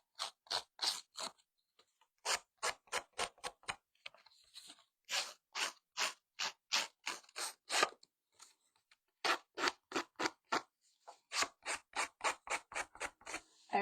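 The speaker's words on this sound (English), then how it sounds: "I do kind of keep an older pair of these snips for this job." An older pair of snips cuts card-making paper in quick, crisp snips, in bursts of several rapid cuts separated by brief pauses, close and clear with no talking.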